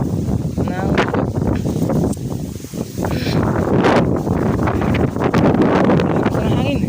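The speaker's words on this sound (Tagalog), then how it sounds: "Lakas ng hangin." Strong wind buffeting a microphone on a mountain summit, a loud continuous roar with gusty surges and rustling throughout, nearly drowning out the people talking.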